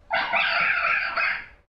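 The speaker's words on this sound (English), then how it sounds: "A fox." A fox gives one drawn-out, strained bark-like call of more than a second, loud and close, with no other sound around it.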